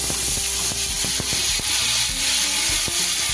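Turmeric and spices tempering in hot oil for cauliflower kachori filling: a continuous bright sizzle with scattered clicks and taps of utensils against the pan, close and loud, with no voices.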